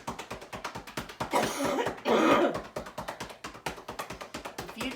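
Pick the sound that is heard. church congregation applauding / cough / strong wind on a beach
cough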